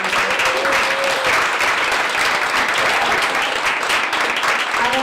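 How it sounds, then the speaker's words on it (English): An audience at a women-in-business leadership panel gives sustained, even applause, a loud continuous wash of clapping throughout. "I think a round of applause"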